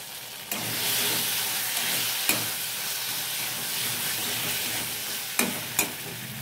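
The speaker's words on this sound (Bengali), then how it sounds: "জিরে আদা পেস্ট দিয়ে একটু নাড়াচাড়া করলাম" Cumin and ginger paste sizzles steadily in a hot pan for paneer, with a few sharp scrapes and knocks of a spatula stirring it near the start and end.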